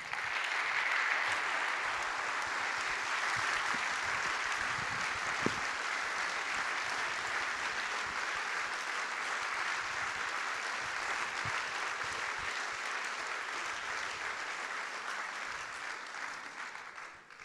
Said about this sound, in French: que vous l'applaudissiez.